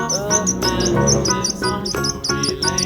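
Bright, repeated bird chirps ring out in quick bursts over a steady background of lower tonal noise, fairly close and clear.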